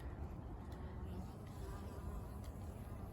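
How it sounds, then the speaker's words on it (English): A bee buzzes around fall-fruiting raspberry canes in a garden, giving a steady, faint drone over quiet outdoor background with no talking. "Hello, little bee."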